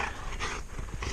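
A dog growls and pants during rough play, a dense, close and continuous rumbling breathy sound filling the whole short moment.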